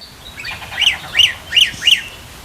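A myna or starling (jalak) gives four evenly spaced, sharp chirping calls, loud and close, over a quiet background with no talking.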